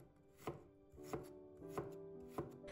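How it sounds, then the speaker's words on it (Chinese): A knife cuts a peeled piece of fresh ginger into thin slices on a board, four crisp, evenly spaced chops close by, with quiet pauses between. "先把生姜切成薄片"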